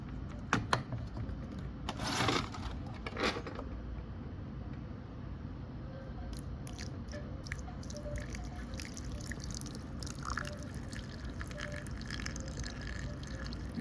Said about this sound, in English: Probably want to put the water in first.